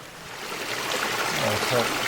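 A mountain stream with good flow at a water source on the Appalachian Trail, a steady close rush and trickle of running water with voices talking faintly under it.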